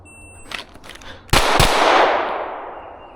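Handgun fire during shooting drills at an outdoor range: a couple of light pops, then two sharp, loud shots in quick succession, each followed by a long echoing decay.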